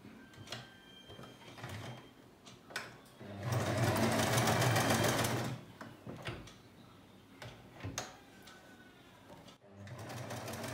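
A sewing machine stitches churidar fabric in one sustained, fast rattling run, framed by quieter clicks, fabric handling and handling noises before and after.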